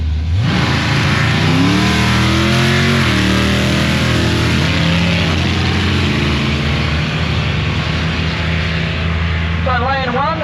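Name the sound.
twin turbo V10 Lamborghini Huracan warming up tyres at drag race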